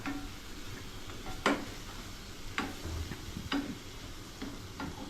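Garlic paste frying in a pan with small chips, a soft steady sizzle under several sharp spoon or spatula taps against the pan, about one every second, close by with no talk.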